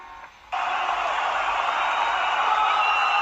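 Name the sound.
crowd cheering and screaming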